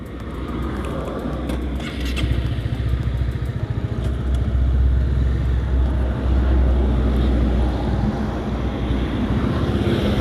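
Vehicle driving along the Pantura road between Kudus and Demak, a steady rumbling engine and road drone heard from inside, loud and continuous with faint rattles and no talk.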